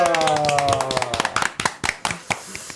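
Celebratory clapping in a Korean stock-market closing broadcast studio, marking the KOSPI reaching 5000: a few people clap in uneven, sharp bursts that thin out over a few seconds, following tonal sounds and a trailing voice.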